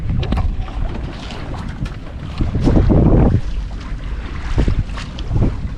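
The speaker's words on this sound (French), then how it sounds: "Le glouk-glouk de l'eau." Water sloshing and lapping against the hull of an anchored sailboat at sea, a steady soft wash with wind noise on the microphone and a swelling surge midway.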